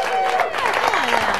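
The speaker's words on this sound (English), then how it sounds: "You're supposed to clap when we do that." Applause from a studio audience at a Kansas City after-hours talk show, a dense wash of clapping mixed with cheers and voices that holds steady for the short stretch.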